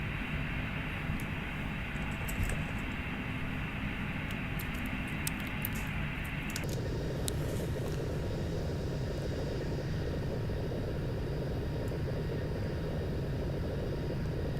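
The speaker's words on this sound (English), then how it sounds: "Yes, airplanes are pretty noisy." Steady, loud jet engine roar from an airliner cabin in the flight simulator FSX, a continuous rumbling drone that shifts slightly in tone partway through.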